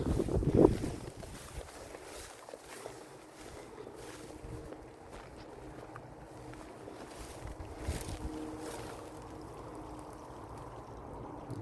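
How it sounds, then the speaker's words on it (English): Steady broadband rush of running water, continuous and fairly even, with a brief louder knock near the start and occasional soft bumps. "Okay, I can hear water running."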